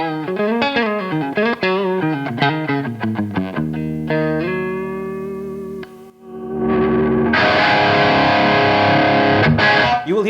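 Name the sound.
distorted electric guitar with Seymour Duncan Slash 3.0 pickups, SG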